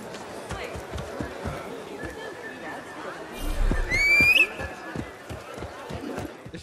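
A horse in Assassin's Creed Mirage, steady rhythmic hoofbeats of a gallop running throughout, with a whinny rising briefly midway over the pounding stride.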